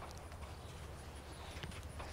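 Horse hooves clip-clop steadily at a walk as the animal is led away from a mounting block, a soft, even rhythm of hoof falls over a low, constant background.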